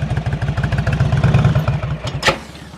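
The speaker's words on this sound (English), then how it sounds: "The throttle's too low. Right. So you can hear your engines going." Motorcycle engine idling at low throttle during slow-speed riding practice, a close, steady low chugging with even rapid pulses and a brief sharper noise near the end.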